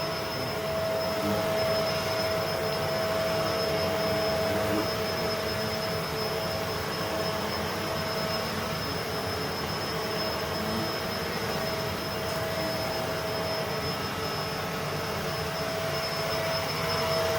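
A Bissell Big Green upright vacuum cleaner with filtered exhaust runs steadily on carpet, a loud continuous motor drone with a high whine holding evenly throughout.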